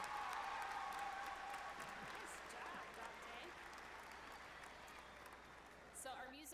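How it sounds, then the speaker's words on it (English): Audience applause at a Davis High School graduation ceremony in 2019, a steady wash of clapping throughout that fades slightly toward the end, with faint voices and crowd murmur mixed in. "Let's give another round of applause."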